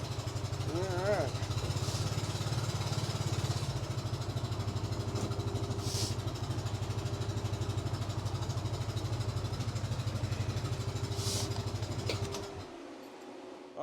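A side-by-side utility vehicle's engine idles steadily close by as it parks in a farm garage before a snowstorm, a constant low chugging that cuts off near the end, with brief speech.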